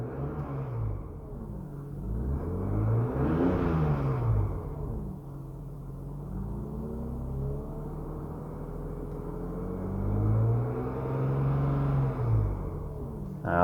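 A 1995 BMW E36 M3 engine rises in pitch twice, with a broad rev near the start and another toward the end over a steady rumbling idle, heard from close by.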